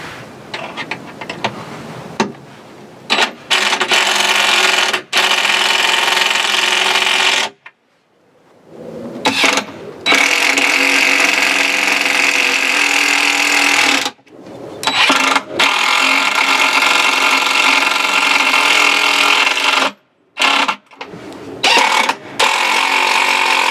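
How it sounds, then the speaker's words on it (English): A power impact drill whines loudly in long continuous bursts, stopping and restarting several times with brief silent gaps between runs. "Let me get the impact drill"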